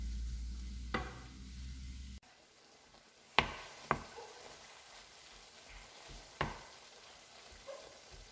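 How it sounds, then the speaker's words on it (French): Vegetables and minced meat cook in a frying pan with a quiet, steady sizzle, broken by a few sharp clacks and scrapes as a utensil stirs the mixture. "il ne faut pas oublier de venir mélanger nos légumes. Vous savez, pour pas que ça colle à la poêle, pour pas qu'il crame."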